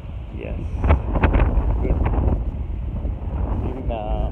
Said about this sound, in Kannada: ತುಂಬ ಜೋರಾಗಿ ಬೀಸ್ತಾ ಇದೆ ಗಾಳಿ